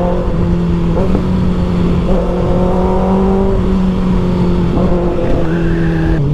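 A 2024 Kawasaki Ninja ZX6R sport motorcycle revs close and loud, a sustained high-pitched engine howl rising and falling through several throttle blips with no talk over it.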